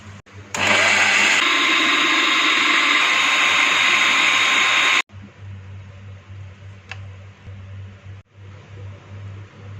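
A blender or chopper mashes lentils and wheat for hareesa, a loud steady whirring motor running for several seconds before cutting off abruptly, followed by quieter low background hum.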